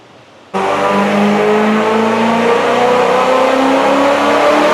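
Ferrari 488 GTB with upgraded turbos revving hard on a dyno on its stock tune, the engine note cutting in abruptly and holding a loud, rising, sustained roar at close range.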